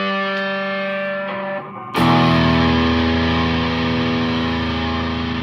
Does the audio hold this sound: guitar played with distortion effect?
yes